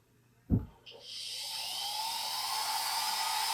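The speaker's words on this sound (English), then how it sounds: "now I could grind, carve, drill with this, whatever I needed to do" A click, then a MicroLux flex shaft rotary tool, run by foot switch, spins up to a steady high-pitched whine that holds evenly, close and fairly loud.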